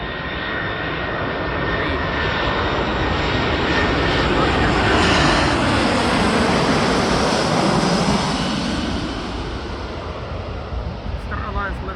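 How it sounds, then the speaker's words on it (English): Airbus A340-300 airliner in Star Alliance livery landing at Newark Liberty International Airport, a loud, close roar of jet engines swelling and holding for about twelve seconds, with wind-like rush over it. "This is the A340 300."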